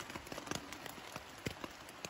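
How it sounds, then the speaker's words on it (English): Rain falls on and around a tent on a rainy morning, a faint irregular patter of separate drops tapping the fabric over a soft hiss, with no voices. "it is raining outside."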